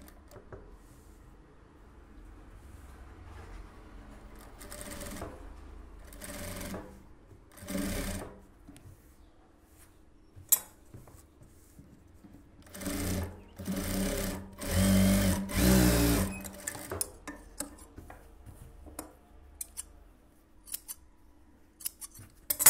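A sewing machine stitches a silk saree blouse in several short, whirring bursts separated by quiet pauses, close and moderately loud.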